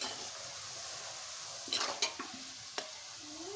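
Jackfruit pieces deep-frying in hot oil, a steady low sizzle broken by several close clinks and scrapes of a utensil against the pan.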